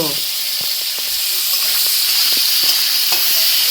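Paneer curry sizzles and fries in a home kitchen pan, a steady broadband hiss with occasional soft stirring clicks, close and continuous, with faint voices now and then.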